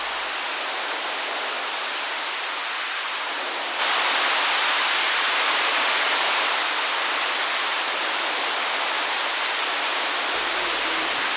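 Synthesized bubbling, running water made in VCV Rack gives a continuous rushing hiss that steps up louder partway through and then holds steady, with no voices.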